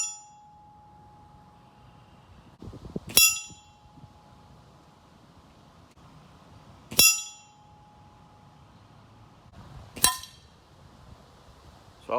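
Three sharp metallic clinks of pellets from an HW30 spring airgun striking a metal target, spaced a few seconds apart, each ringing briefly over quiet background with a faint shot thump before some.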